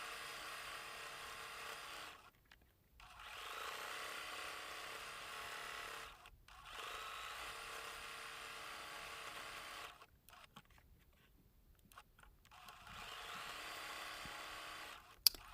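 A sewing machine stitches fusible applique cupcake icing in several bursts of fast, buzzing needle hum, each a few seconds long and separated by short pauses, close and fairly quiet, ending with a small click.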